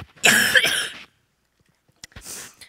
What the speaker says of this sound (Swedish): Nu ska man inte ha hosta när man ska stå här och prata.